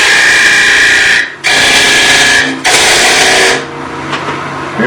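A larger wood turning tool cuts into a spinning workpiece on a lathe, producing three loud, close, hissing bursts of cutting separated by brief pauses, then a quieter tail.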